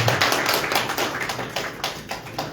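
An indoor conference audience gives brief applause, a dense patter of many hands clapping at close range that stays steady for a couple of seconds.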